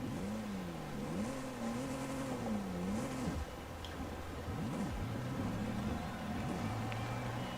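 A Toyota 4Runner's engine in a video game revs in rising and falling sweeps, holding a steady drone between throttle changes, heard alone without talk.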